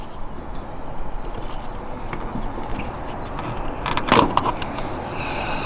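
A gas cap comes off the filler of a Dodge Challenger with one short, close plastic click and rattle partway through, over a steady low background hum.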